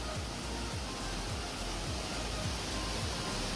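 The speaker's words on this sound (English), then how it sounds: "There's a waterfall around there." A waterfall near clear, chilly water in Mindo, Ecuador, gives a steady, loud broadband rush of falling water with no speech over it.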